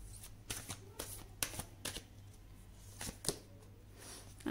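Oracle cards are shuffled by hand for a tarot reading: soft, close papery riffles come in short bursts at irregular intervals in a quiet room.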